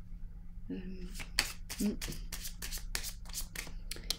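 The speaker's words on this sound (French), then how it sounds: "je vais piger une autre carte" Tarot cards being shuffled by hand, a rapid series of crisp riffling bursts close by over a low background hum.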